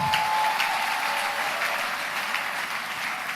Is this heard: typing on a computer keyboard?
no